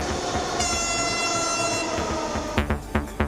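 A metro train passes close by, a sustained high horn blaring over the rolling rumble of the carriages, then giving way to a rhythmic run of loud wheel clacks over rail joints.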